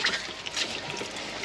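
Water running from a portable camp shower at a roof top tent camp by a 79 Series Landcruiser, a close steady splashing spray with uneven patter, moderately loud throughout the short stretch.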